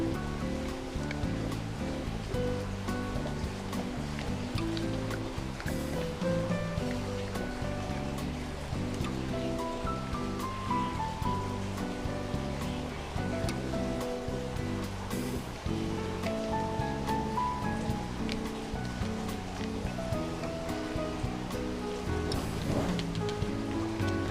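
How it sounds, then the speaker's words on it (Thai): A one-kilogram bag of chili sauce is poured into a hot pan for a sukiyaki dipping sauce, giving a steady, rain-like sizzling hiss that continues throughout, close and fairly loud. "ซอสพริกหนึ่งซองนะเจ้าหนึ่งถุงหนึ่งกิโลกรัม เทลงไปในกระทะเลยนะเจ้า"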